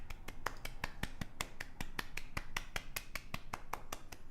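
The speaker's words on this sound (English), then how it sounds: "Probably only Anthony's claps could be heard" A single person claps steadily at the end of a performance at a moon festival, about four or five crisp, evenly spaced claps per second, fairly faint and with no other noise around them.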